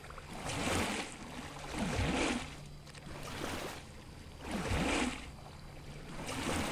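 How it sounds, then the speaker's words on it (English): Water sloshes in broad, rolling surges in the video game Pools, swelling and fading in slow waves roughly every few seconds, with no voices. "I don't like the sloshing."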